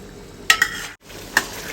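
A thick flour-and-coconut-cream dough for a traditional southern Thai sweet, stirred in a pan over low heat. A few short scraping strokes sound over a soft sizzle, with a brief pause in the middle.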